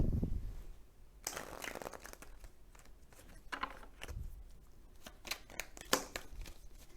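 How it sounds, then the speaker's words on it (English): Tarot cards are shuffled in quick riffling bursts, several rapid flutters and taps close by, with no talking. "so I'll give them a good shuffle again"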